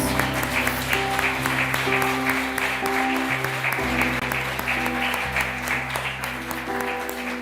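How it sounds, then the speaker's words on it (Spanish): A church congregation applauds during a worship service, steady clapping from many hands blended with sustained organ or keyboard chords underneath. "Den un aplauso al Señor"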